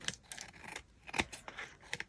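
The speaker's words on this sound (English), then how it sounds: "Just do this with my scissors." Scissors trimming the edges of a paper doily on a scrapbook journal page, giving several short, close snipping crunches spaced irregularly over a couple of seconds, with no talking.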